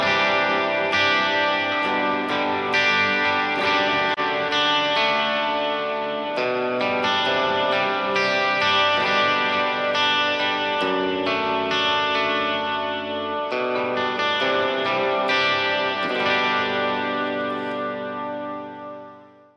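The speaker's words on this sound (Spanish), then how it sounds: "Y si lo combino con un drive sonaría de esta manera." Electric guitar played through a multi-effects pedal, a worship-style ambient reverb layered with overdrive, ringing chords sustained and washing together, loud and continuous with no talking before a final fade.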